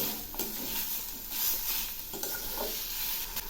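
Grated coconut and cane jaggery are stirred in a wok over a steady sizzle, with several scraping strokes of the spoon against the pan, close and heard without talk.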